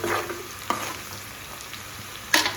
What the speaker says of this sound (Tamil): நம்மளோட வெங்காயம் பூண்டு வரமிளகா கருவேப்பிலை சீரகம் எல்லாமே போட்டு நல்லா தாளித்து விடணும்